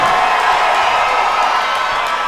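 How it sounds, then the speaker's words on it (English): Boxing event crowd at a charity fight night, dense sustained roar of cheering and shouting from a large audience, loud and steady throughout. "Crowd's into it."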